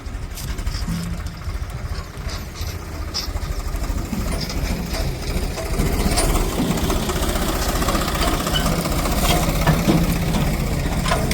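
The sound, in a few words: tractor engine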